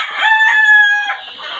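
An Egyptian Fayoumi rooster gives a single loud, close crow that rises and holds, then trails off into a softer call.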